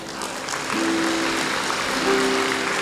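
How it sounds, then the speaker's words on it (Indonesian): A church congregation applauding at the close of a sermon: dense, loud, sustained clapping from a large crowd with a steady organ or keyboard tone sounding underneath. "Tepuk tangannya"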